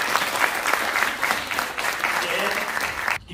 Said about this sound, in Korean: 크게 다시 한번 박수로